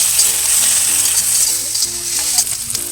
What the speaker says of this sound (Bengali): প্রথমে পেঁয়াজটা দেখবে এরকম হালকা ভাজা ভাজা হয়ে যাবে গেলে তাতে এই যে রসুন কুচিটুকু তুলে দিয়ে ভালো করে কষে নিতে হবে